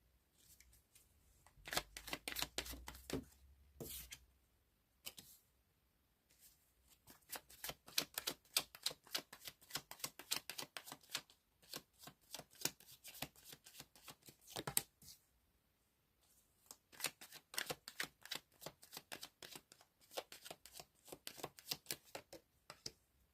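Tarot cards riffle and flutter in repeated dense bursts of crisp slapping, with short pauses between rounds of shuffling, close and fairly loud, no talking.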